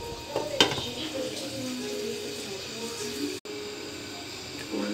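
A lid is set on a pot of lengcha sweets simmering in syrup, with one sharp metallic clank near the start, then soft lid and utensil clatter over a low stove hiss, close by.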